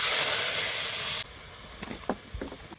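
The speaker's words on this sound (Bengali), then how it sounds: "কড়াইতে তেল দিয়ে দিয়েছি, ফোড়নে দিব কালো জিরে, মৌরি, গোটা জিরে" Whole spices — nigella, fennel and cumin seeds — hitting hot oil in a kadai, a loud bright sizzle that drops abruptly and settles into softer crackling with small pops.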